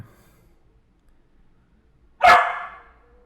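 One loud, close dog bark bursts out after a few seconds of quiet, then fades quickly.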